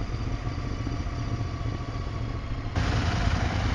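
A Royal Enfield Interceptor 650 motorcycle engine runs with a steady, refined low hum, getting slightly louder near the end, with no voices.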